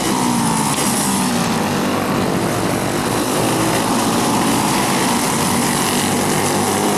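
Race cars roar continuously around a motorsport track in a loud, unbroken engine drone, with no clear break between passes.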